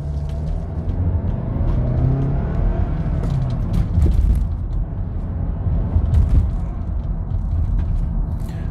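A 2014 Toyota Camry XLE front-wheel-drive engine rumbles steadily with a low, grinding drone as the car drives along in eco mode, continuous and fairly loud with no talking.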